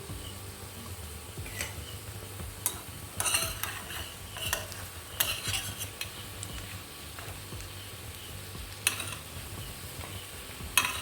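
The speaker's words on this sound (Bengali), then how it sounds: "এখানে বড়াগুলো ভাজা হয়ে গিয়েছে এবার তুলে নিচ্ছি" Fried lentil fritters (bora) lifted from a pan of hot oil, with a steady sizzle under scattered sharp clinks and scrapes of a metal utensil against the pan.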